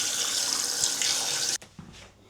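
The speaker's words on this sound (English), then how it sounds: "Oh, let me just rinse my hands." A tap runs at a sink while hands are rinsed, a close, steady hiss of flowing water that cuts off abruptly, followed by a few faint drips and splashes.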